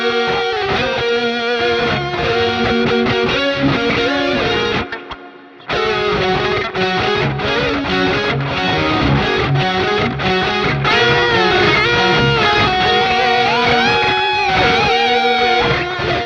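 A rough, distorted electric guitar plays the vocal melody line of a song, busy sustained phrases with a brief drop-out midway, loud and close throughout, no talking.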